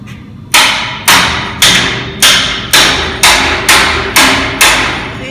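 A hammer strikes an old metal vise to drive it closed, landing nine heavy, evenly spaced blows about half a second apart, each a loud ringing clang that decays before the next.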